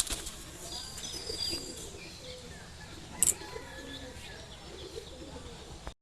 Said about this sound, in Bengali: দেখুন এটা হলো ফিমেল কবুতর